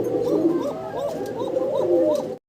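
Pigeons at a wholesale pigeon sale coo close by in a repeated, rolling rhythm of several throaty calls, loud and clear before the sound cuts off abruptly.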